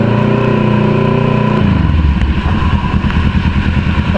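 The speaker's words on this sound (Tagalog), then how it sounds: "Gamitin natin motor ngayon yung ating Kawasaki Ninja 650" A Kawasaki Ninja 650 motorcycle engine rumbles loudly up close, holding a steady tone before the revs drop and it settles into a rougher, pulsing lower note while riding through heavy rain and flooding in Marikina.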